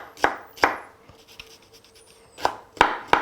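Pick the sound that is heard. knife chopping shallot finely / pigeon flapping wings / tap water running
knife chopping shallot finely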